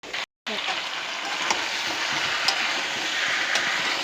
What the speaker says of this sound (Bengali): পেঁয়াজ রসুন তেলের পরে দিয়ে দিলাম